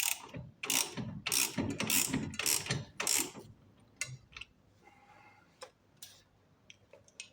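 A ratchet wrench tightens parts during a car wheel hub bearing replacement, loud bursts of rapid clicking in several strokes, then sparser faint clicks and handling noises.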